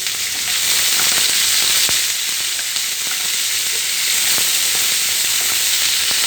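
Onion and capsicum frying in a pan with fennel seed tempering, a loud, continuous sizzle with scattered sharp pops and crackles throughout.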